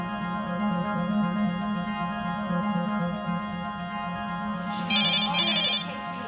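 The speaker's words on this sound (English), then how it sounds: "Phone's ringing." Telephone ringing in a hospital emergency department, a steady repeating electronic ring with a pulsing tone, fairly close, joined near the end by a brief brighter chirping burst.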